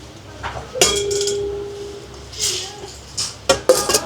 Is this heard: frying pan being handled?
yes